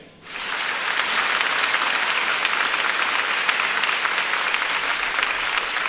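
A worship congregation at a revival meeting claps along with a song, the dense applause rising within the first half-second and then holding steady and loud.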